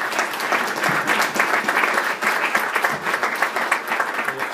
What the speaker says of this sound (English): I'd love to give the panelists a big round of applause